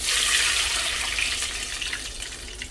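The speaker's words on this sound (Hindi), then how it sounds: "ये देखिएगा इसमें पानी डाल दूँगी" Water running from a tap into a cooking pan while a rice dish is prepared in a home kitchen, a steady close splashing hiss that eases slightly toward the end.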